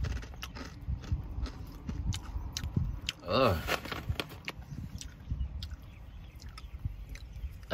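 Whisps parmesan cheese crisps being chewed up close, with a steady run of crisp crunching bites and a brief voiced murmur partway through.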